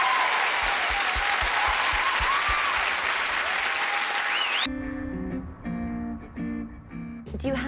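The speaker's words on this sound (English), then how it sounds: "Give one big round of applause," A live crowd at Stirling Castle applauds with loud, dense clapping and a whistle or two, cut off abruptly midway as music with a bright tonal melody takes over.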